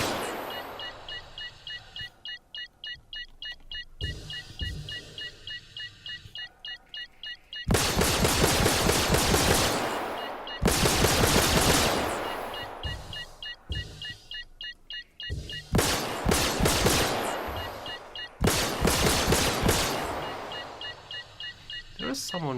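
Spaceship weapons firing in Star Citizen Arena Commander: several long, loud bursts of rapid blaster fire stand out over a constant engine hum and beeping tones, with a person talking between them.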